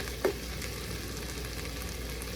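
Peppers and sausage simmer in sauce in a pan, a quiet steady sizzle with one small clink of a spatula near the start.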